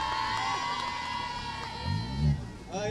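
Crowd cheering and calling out at the La Rochelle start of the Bab El Raid 2019 as the Portuguese rally crew is sent off, a steady mass of voices with a few louder shouts swelling near the end.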